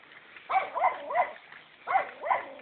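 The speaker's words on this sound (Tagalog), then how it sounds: "May tumatahol na aso." A dog barks five times in two quick pairs and a closing single, fairly close by, each bark short and sharp with no talking over it.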